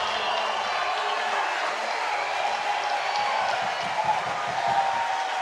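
A baseball crowd at an IBL finals game between the Toronto Maple Leafs and London Majors cheers after an RBI double, a steady wash of roaring applause and shouts sustained at full volume.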